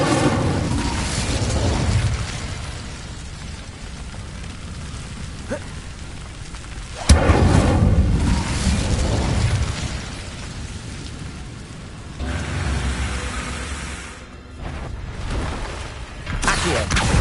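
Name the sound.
Incendio fire spell blasts in video game Hogwarts Legacy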